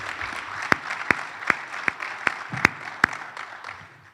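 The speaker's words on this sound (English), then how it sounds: "Can we just give those 5 ladies a round of applause" Applause from a conference audience, heard as a run of evenly spaced, sharp single claps about every 0.4 seconds over a soft murmuring background rather than a dense ovation, with no speech over it.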